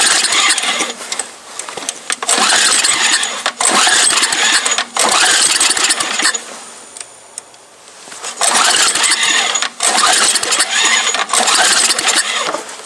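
A cold MTD Yard Machine snow blower engine cranks and sputters loudly in repeated bursts, catching briefly and dying down between attempts, with a rough, rattling mechanical drone close by.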